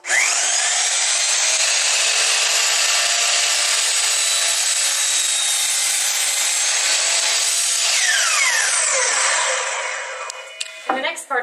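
A power saw rips through a wood board for a mobile workbench, a loud, close, sustained whining cut lasting about nine seconds before the blade winds down and a few clunks follow.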